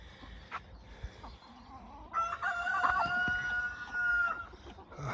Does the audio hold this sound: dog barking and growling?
no